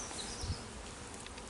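Honey bees droning steadily around a small hive entrance, a faint low buzzing texture with a brief closer pass, no voices.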